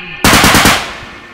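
Uzi submachine gun in a bodycam-style zombie shooter game, a sudden loud close burst of about five rapid shots that fades out over a second.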